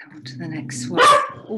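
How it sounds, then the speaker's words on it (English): A dog barks once, sharp and close, under a person talking, with a brief yip-like call at the end. "sorry, that's my dog."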